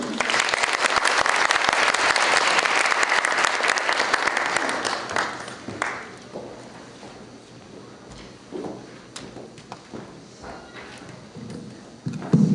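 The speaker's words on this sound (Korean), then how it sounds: "박수로 모시겠습니다" An audience at a university debate competition final applauds steadily to welcome the university president, then the clapping thins out into scattered claps, a few footsteps and room noise.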